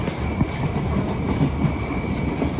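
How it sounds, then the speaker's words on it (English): A train rolls toward banana plantations in Costa Rica, a steady rumbling ride with soft rhythmic clatter of wheels on track and a faint constant whine, heard from inside the carriage. "we're in the train going into the banana plantations in Costa Rica"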